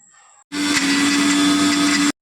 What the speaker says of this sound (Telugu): ఇప్పుడు దీన్ని మిక్సీ పట్టాలి.